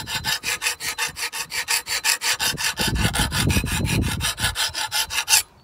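A sharpening bar rasps back and forth along a steel hoe blade in steady, close strokes, about two per second, with a heavier grinding stretch midway; no voices.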